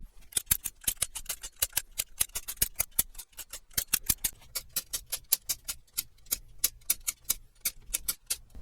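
A spring-loaded center punch clicks repeatedly against an LT1 small-block Chevy gen 2 intake manifold. The sharp snaps come in a fast, steady series, close and loud, with no talk over them.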